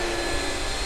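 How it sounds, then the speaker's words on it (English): A household vacuum cleaner drones steadily and loudly, a constant motor whine with no breaks or talking. "You can't run a vacuum cleaner on 12 amps, John."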